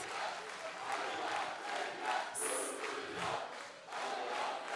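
A studio audience at a TV singing competition claps and cheers steadily, a dense wash of applause with a few shouts, continuing throughout.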